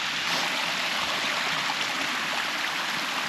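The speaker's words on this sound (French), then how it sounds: "Petite cascade." Small mountain waterfall near a campsite, a steady broad rushing hiss of falling water, close and continuous with no voices.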